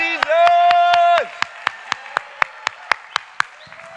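Revival service congregation: a long sustained shout gives way to steady, evenly spaced claps ringing out in a regular rhythm.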